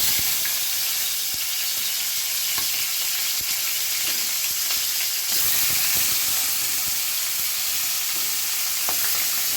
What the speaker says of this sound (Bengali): তেলটা যখন অনেক গরম হয়ে যাবে তখন মাছগুলো দিয়ে দেবো